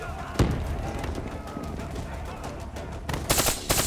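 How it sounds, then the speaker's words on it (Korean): Rapid automatic gunfire in Call of Duty: Black Ops 3 rattles in dense bursts with a heavy thump early on. A sharper, brighter volley follows near the end, loud and close. "와, 총소리 봐."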